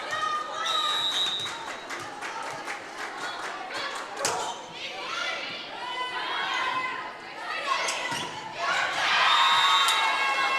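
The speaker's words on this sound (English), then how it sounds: "This crowd is excited here. It's the loudest it's been tonight." A crowd at a women's volleyball match against Montana Western cheers and shouts energetically, with thumps, whistles and scattered voices. The noise swells loudest near the end.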